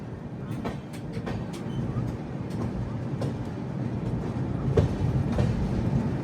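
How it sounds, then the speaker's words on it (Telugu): The Dakshin Superfast Express 12721, running from Hyderabad to Delhi alongside the Azad Hind Express, rolls with a steady rumble, scattered wheel clicks and clacks, and a faint voice in the background. "ఆజాద్ హింద్ ఎక్స్ప్రెస్కిను దక్షిణ ఎక్స్ప్రెస్కి ప్యారలల్ రన్ అవుతున్నాయి"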